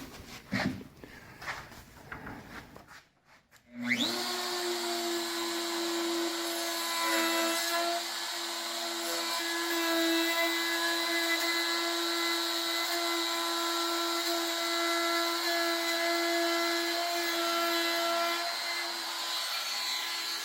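A power tool, likely a router or trimmer, whines steadily and loudly while trimming wooden drawer dovetails in a workshop. It starts after some brief handling noise and keeps running alone without a break.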